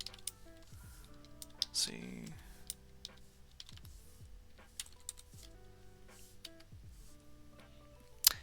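Keystrokes on a computer keyboard while entering print statements into PyCharm code, a scattering of light clicks and taps spread through the stretch, with a voice talking briefly near the start.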